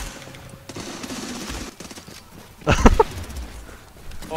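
Suppressive gunfire in the tactical shooter game Squad, a loud close burst of automatic fire rising out of a busy battle din, with players talking over the game sound.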